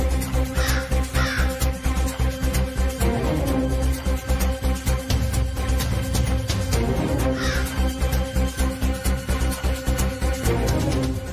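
Crows caw over and over near a ritual food offering laid out for a deceased mother, their harsh calls recurring in bursts above a steady, dense background hum.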